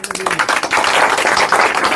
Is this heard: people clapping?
yes